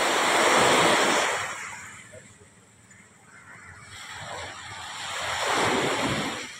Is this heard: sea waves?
yes